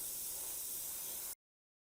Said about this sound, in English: spray a light coat over the whole thing